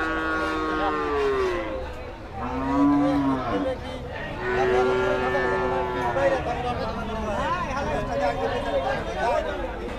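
Cattle moo repeatedly, loud and close, at a crowded cattle market at Deohata near Mirzapur, Tangail, with long low calls rising over steady crowd chatter and talk.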